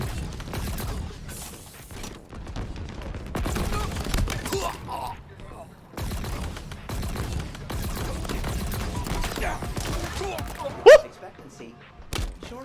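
Hydra and Ravager weapons fire during Halo Infinite multiplayer, repeated punchy shots and impacts under near-constant talking, with one sharp louder hit near the end.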